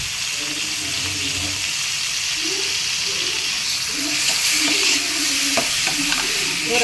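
Washed prawns sautéing lightly in a pan, a steady soft sizzle running throughout with occasional stirring scrapes and clinks rising a little toward the end.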